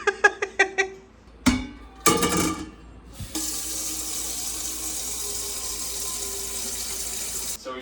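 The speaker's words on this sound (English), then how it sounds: "So we filled this pot with water" A cooking pot fills from a kitchen tap for canning salsa, a few clinks and knocks first, then a steady, even rush of running water close by that holds to the end.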